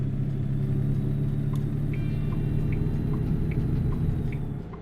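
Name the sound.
truck engine in American Truck Simulator video game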